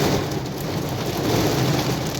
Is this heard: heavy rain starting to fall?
yes